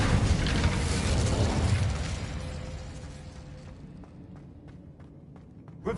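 An Incendio fire spell cast in Hogwarts Legacy sends a loud rushing, roaring blast that fades over a few seconds, followed by quiet light footsteps and small taps.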